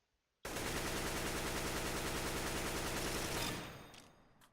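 Sustained automatic rifle spray in CS:GO, a rapid unbroken burst of about 31 shots lasting roughly three seconds, loud and close, then fading out with a brief tail.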